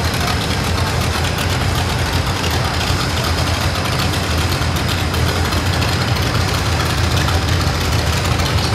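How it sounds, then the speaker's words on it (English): A 1972 Allis-Chalmers 200 tractor running in a power show parade, its engine a steady loud rumble with no pauses, heard close amid outdoor noise. "Next up, we've got Walter Ward on a 1972 Alice Chalmers 200. Look at her shine"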